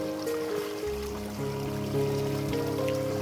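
A waterfall stream flows with a steady rushing wash, while a low engine-like drone hums underneath throughout.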